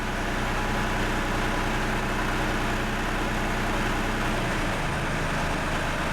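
An engine idling at about 1,000 RPM, a steady, dense, loud rumble with no breaks, heard close, its low note dropping slightly near the end.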